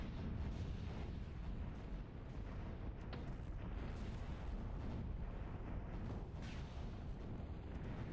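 Dense, continuous rumble of bombing blasts and area-of-effect weapon impacts in the strategy game Zero-K, a steady roar of overlapping explosions with a few sharper cracks, loud throughout and with no pauses.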